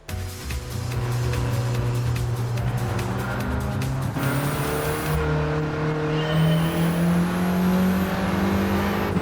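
Engines of Mini cars race around the Mount Panorama circuit in a video game, a steady droning whine that shifts pitch through gear changes, with brief tyre squeal and cars passing close by throughout.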